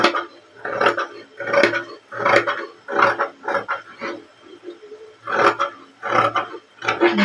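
Scissors snip through a blouse fabric strip in a steady run of crisp, close cuts, roughly one every half second, with brief pauses between groups.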